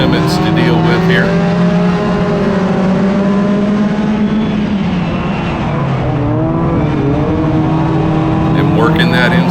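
Race car engine during a circuit race, a loud sustained howl whose pitch climbs and drops as it shifts and accelerates, with a voice talking over it throughout.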